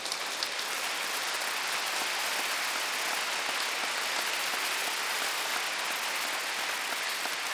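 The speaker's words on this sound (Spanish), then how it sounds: "Un aplauso para nuestro Dios." Congregation applauding at a church service, a dense, steady wash of clapping from many hands that carries on evenly for the whole stretch without talk.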